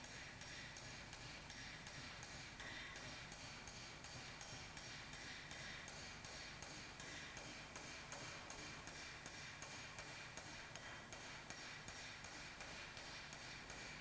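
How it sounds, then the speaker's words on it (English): Rapid, regular hammer blows strike a metal sheet along an edge previously cut by an oxytorch, worked to remove distortion; steady rhythmic metallic taps throughout, fairly faint and even, without speech. "hammers out another edge previously cut by the oxytorch"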